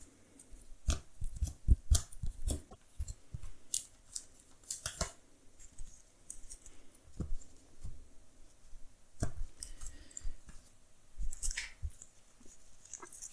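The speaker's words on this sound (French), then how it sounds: "pendant que je mélange mon deck" A deck of game cards being shuffled by hand for a solo Arkham Horror card game, heard as crisp riffling bursts and flicks of card stock repeating irregularly, fairly close and alone with no talk.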